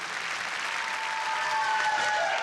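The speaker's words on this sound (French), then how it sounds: "Ce tonnerre d'applaudissements résonne comme un soulagement pour Jean-Charles de Castelbajac" A crowd breaks into a thunderous, sustained ovation at the close of Jean-Charles de Castelbajac's fashion show, with dense clapping that holds steady and swells slightly toward the end, with no voices heard over it.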